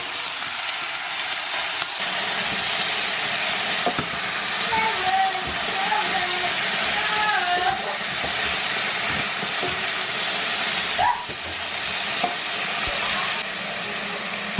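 Chicken and garlic sautéing in a pan for chicken with cabbage: a steady, fairly loud sizzle with occasional stirring scrapes and clinks, while someone talks quietly over it now and then.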